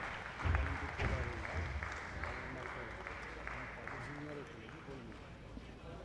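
Crowd applause at an Asian airgun shooting championship medal ceremony for the men's air pistol team winners, steady clapping throughout with a voice speaking over it.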